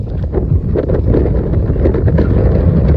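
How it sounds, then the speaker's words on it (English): Strong wind rushes across coastal sand dunes near the sea, a loud, continuous buffeting roar battering the microphone with no voices. "the wind is so strong that it just blows the dunes away"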